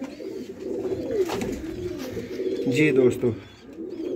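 Pigeons at a Sialkot pigeon-keeping loft coo repeatedly in low, rolling throaty notes, close to the microphone, while someone speaks over them for most of the stretch.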